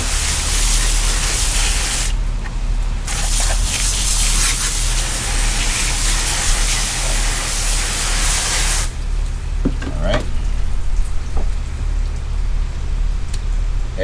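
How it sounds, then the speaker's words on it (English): Steady hiss of a water spray rinsing slime off a freshly caught redfish while cleaning it, loud and close, briefly cutting out and then returning a little softer with faint clatter. "I'll spray all that slime out."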